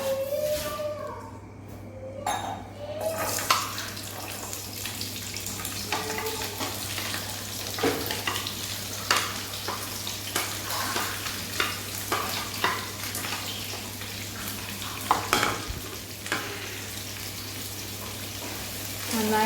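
Diced capsicum and two large cubed onions stir-fried in oil over a high gas flame, with a steady close sizzle under repeated scraping and stirring clatter, with no talking.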